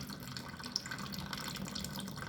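Liquid trickling and running continuously, molten wax flowing from a steam wax melter while rendering old beehive frames, a steady, fairly quiet wet stream heard alone.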